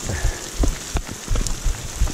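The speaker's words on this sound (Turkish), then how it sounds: "Deli gibi yağmur yağıyor." Steady rain patters hard on a surface, with dense irregular drops and a constant hiss throughout.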